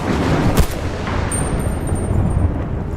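A single sharp gunshot cracks early on in Battlefield: Bad Company 2, followed by a steady background rumble and a thin high tone, with no talking.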